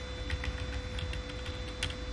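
Quiet, rapid keystrokes on a computer keyboard while code is entered, a light irregular patter of clicks close to the listener with no talking.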